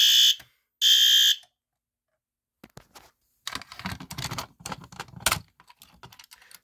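A System Sensor fire alarm horn strobe gives two loud, piercing blasts, then falls silent before clattering handling and tapping noises follow close by.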